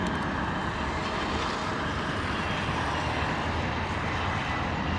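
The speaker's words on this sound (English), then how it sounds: "A320 Aer Lingus coming in from Cork," An Aer Lingus Airbus A320neo arriving from Cork lands at London Heathrow in wet, windy weather, its jet engines producing a loud, continuous roar that stays even and close for the whole stretch.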